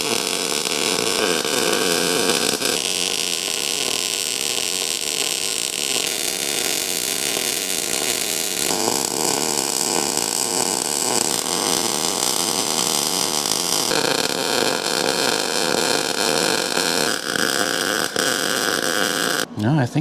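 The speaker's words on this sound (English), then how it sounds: "let's weld it in" Welding a saddle fuel tank onto a Chevy COE truck, a steady loud crackling buzz that runs continuously for the whole stretch with small shifts in tone, ending abruptly.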